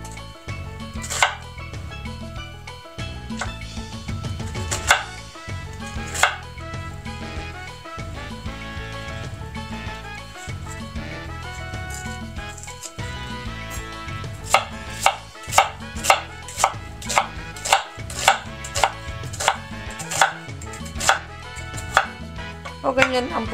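An onion is sliced thinly on a cutting board with a knife in a home kitchen. Fast, steady knife taps run in bursts with brief pauses, turning into sharper, more spaced chops toward the end.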